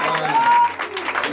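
A church congregation claps and cheers over amplified speech and sustained music, a busy wash of applause from many people.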